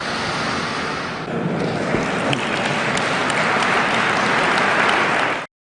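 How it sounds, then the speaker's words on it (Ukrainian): Loud applause from Moscow elites, a sustained dense roar of clapping filling the whole stretch and then stopping abruptly. "без гучних оплесків московських так званих еліт"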